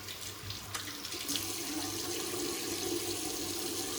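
Running tap water pours steadily while a razor is rinsed during a wet shave with an aluminum Karve CB safety razor, a continuous close splashing hiss with faint clinks and no talk.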